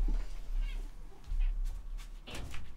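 Indoor cat meowing a few times, with short mid-pitched calls over a low background rumble and some faint voice sounds.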